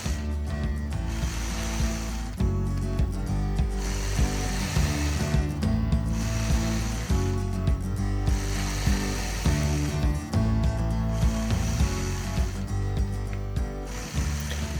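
A sewing machine stitches a quilt block, a steady close mechanical whir with rapid needle chatter running continuously, easing briefly and picking back up in a few short pauses.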